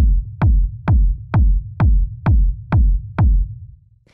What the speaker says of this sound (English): And so you may hear this is a reverb kick.